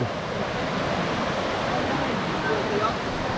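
Steady rushing river water flows continuously at moderate volume, a broad, even hiss with no voices or breaks.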